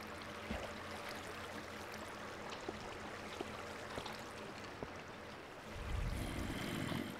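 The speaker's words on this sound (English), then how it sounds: "The waterfall." A steady, soft rush of falling water from a Minecraft waterfall fills the background, with faint clicks scattered over it and a low swell near the end.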